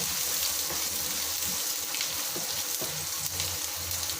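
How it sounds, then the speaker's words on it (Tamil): Finely chopped garlic frying in hot oil, a soft, steady sizzle with light crackles and occasional stirring scrapes, heard close and fairly quiet throughout. "வதங்கட்டும் பூண்டு நல்லா வதங்கிட்டு வாசனை சூப்பராக வருது"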